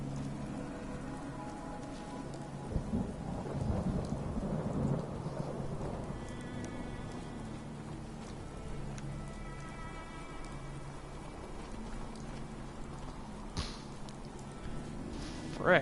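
Steady rain pours down during a thunderstorm in the video game Fallout 4, with low rolling thunder rumbling underneath across the whole stretch and a few sharper crackles, while a voice talks faintly at times.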